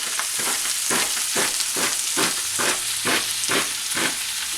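Chopped fajita vegetables fry in a hot pan for chicken quesadillas, a steady loud sizzle with rhythmic pulses as they are stirred roughly every half second, no voices.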